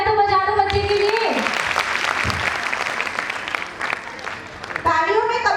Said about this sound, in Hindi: तालियां तो बजा दो बच्चे के लिए।